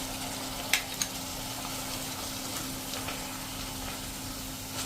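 Freshly chopped tomatoes sizzle in a pan over a low gas flame while a vegetable curry cooks. The frying hiss is steady and soft, with a couple of light clicks near the start and no talking.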